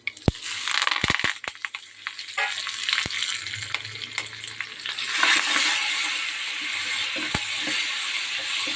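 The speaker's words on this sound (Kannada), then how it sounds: "ಸಾಸಿವೆ ಸಿಡಿತಾ ಇದೆ" Mustard seeds spluttering in hot oil for tempering, alongside cumin, crushed garlic, dried red chillies and curry leaves, in a lentil and Malabar spinach saaru: a loud, steady sizzle with sharp crackles and pops early on.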